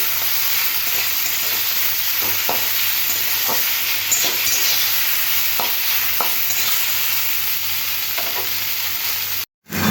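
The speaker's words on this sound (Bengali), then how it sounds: "এরকম সময় ধরে একটু এইভাবে লাল লাল করে ভেজে নিতে হবে" Potatoes and squash flowers fry in a pan with a steady, loud sizzle, while spatula scrapes and taps come at irregular intervals; the sound cuts out briefly near the end.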